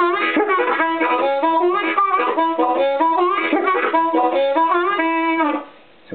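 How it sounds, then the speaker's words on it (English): A harmonica plays a rhythmic, chugging riff with repeated whooping bends, loud and close, running steadily before cutting off near the end. "try to show you another rhythmic riff with the whoopin technique"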